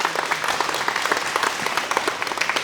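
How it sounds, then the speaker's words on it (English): A symposium audience gives a keynote speaker a round of applause, with brisk, crisp clapping that holds steady for a few seconds, close and lively, and no talk over it. "let's give him a round of applause"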